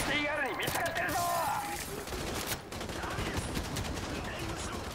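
Dense, loud gunfire in Call of Duty: Modern Warfare bursts out as rapid automatic fire and overlapping shots, with a voice speaking over the opening moments before the shooting carries on steadily.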